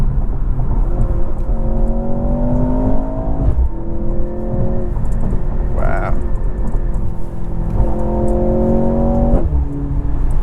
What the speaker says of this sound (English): Has 402 horsepower from this mild hybrid 4-cylinder, and you can feel all of the horsepower. The downshifts, ooh.